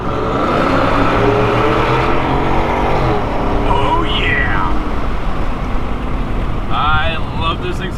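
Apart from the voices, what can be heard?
Yukon Denali XL Corsa exhaust revving under an overpass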